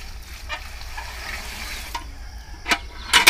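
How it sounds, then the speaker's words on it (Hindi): Water with turmeric boils in a wok, giving a steady bubbling, sizzling wash with occasional sharper clinks or stirring knocks toward the end, close and moderately loud. "अब वो कढ़ाई पे उबालेंगे"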